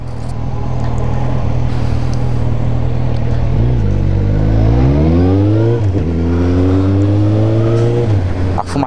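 A motorcycle engine revs hard and close with smoke pouring off, its pitch climbing in repeated sweeps as the throttle is worked in steady bursts, a loud continuous roar throughout.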